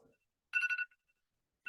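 A mobile phone ringtone goes off in the audience during a talk on marine citizen science and reef stewardship: one short, bright, tonal ringing burst, then silence and the start of another ring, with only faint talk at the very beginning.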